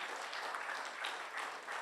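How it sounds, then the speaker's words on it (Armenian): A congregation at a Pentecost church service applauds in a steady, even wash of clapping, fairly soft and continuous throughout. "եկեք ծափահարենք մեր Տիրոջը"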